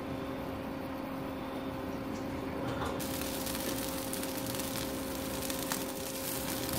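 Potato patties fry in a pan toward golden brown, giving a steady, even sizzling hiss that continues without a break and with no voices over it.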